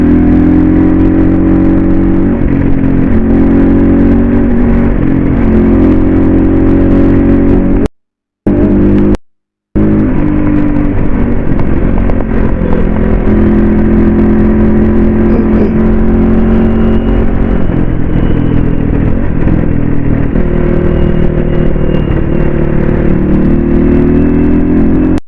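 A dirt bike engine runs loud and close with a steady, throaty drone and slight swells in pitch, broken by two brief cuts to silence partway through.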